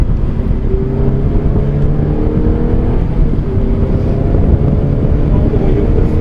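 A Fiat car engine pulls steadily under load after a paddle shift into fourth gear, a loud continuous low drone with rising harmonic tones and a faint wind rush throughout.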